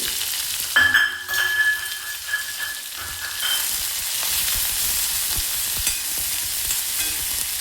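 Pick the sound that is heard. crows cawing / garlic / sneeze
garlic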